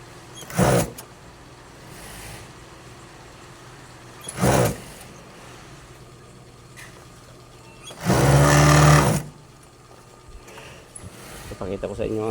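A five-thread sewing machine stitching pants runs in three separate bursts, one brief, one brief and one longer and louder, with a steady low machine hum between them.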